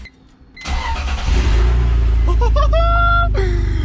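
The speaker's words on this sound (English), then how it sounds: "so I can try and start the car now" A manual-swapped BMW E46 wagon with an open exhaust cranks briefly, catches and roars to life, settling into a loud, rumbling idle close by.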